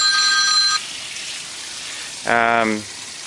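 A cell phone rings in two short electronic bursts of tonal chirps, clear and close, separated by a quiet pause; low background noise beneath, no talk.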